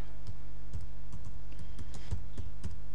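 Keystrokes on a computer keyboard clack in an irregular typing rhythm over a steady low hum, close and fairly clear, while a Photoshop action is being set up.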